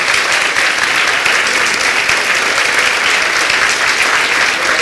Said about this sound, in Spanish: por lo menos aplaudan que ustedes están dormidos,